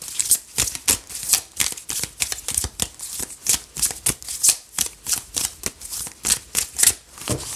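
Tarot cards are shuffled by hand in a steady, rapid riffling rhythm, crisp and close throughout with no voice.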